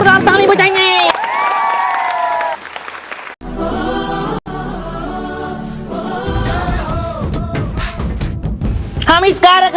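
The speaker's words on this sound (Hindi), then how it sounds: "जोरदार ताली बजाएंगे" An audience at an Independence Day village program breaks into a burst of clapping and crowd noise. Loud voices shout and talk before and after it.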